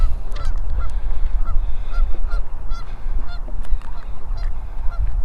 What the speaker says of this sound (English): There's a goose on a nest over here.